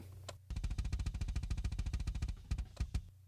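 Raw kick drum track from an outside kick mic on a metal drum kit, alone and dry: a rapid, steady run of punchy low thuds at double-kick speed, followed by a few spaced single hits after a brief pause.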